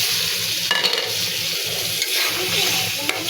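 Small baim fish are stir-fried bhuna style, a loud and steady sizzling hiss with occasional scrapes of a utensil against the pan.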